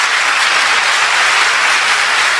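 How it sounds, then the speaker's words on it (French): A French television talk-show studio audience claps in steady, dense applause that stays loud and even from start to finish, with no voices rising above it. "Comment ça, ils applaudissent?"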